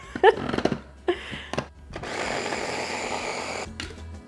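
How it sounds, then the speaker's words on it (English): Lime juice, salt and chili powder whir in a blender for a loud, steady burst of under two seconds after some clinks and handling noises, then it cuts off. "Let's blend that up."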